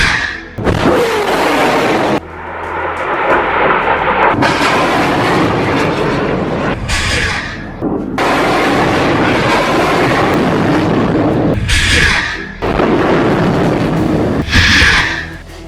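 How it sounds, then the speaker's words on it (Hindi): Hamas rockets launch one after another in a volley of ten, each a loud, sustained roaring rush that swells and cuts off, with short gaps and sharper bursts between launches. "हमास के रॉकेट लॉन्च होते हुए इतनी साफ तस्वीरें आप पहली बार देख रहे हैं। एक के बाद एक हमास 10 रॉकेट फायर करता है।"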